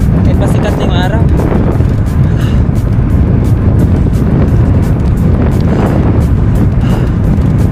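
Strong wind roars over a road cyclist riding a Trek Madone SL 6 Gen 8, making a loud, constant low buffeting rush across the whole stretch, with faint traces of a voice in the background.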